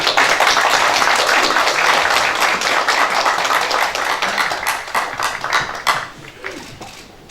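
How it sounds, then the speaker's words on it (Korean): A room of lawmakers at a Bareun Future Party general meeting breaks into loud, sustained clapping that stays strong and thick before tapering off near the end. "이제 크게 박수 한번 예, 다시 한번 예."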